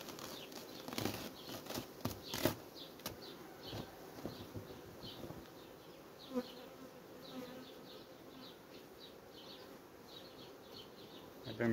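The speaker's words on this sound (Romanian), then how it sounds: "Iată ce fain se retrag albinele." Honeybees at an open hive buzz and fly off after being sprayed with a light mist, a dense hum of many wings with close passing flights and a few sharp clicks early on, fading toward a steadier drone.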